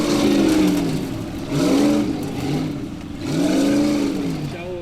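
A Formula Offroad race car on a hill climb at Svinavatn, its engine revving in three or four sharp, rising and falling surges as the driver works the throttle, loud and close with brief dips between bursts.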